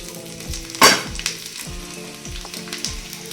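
Oil sizzles in a pan beside roasted onion during home cooking, a steady frying hiss with a sharp burst early on and faint clinks and stirring sounds throughout.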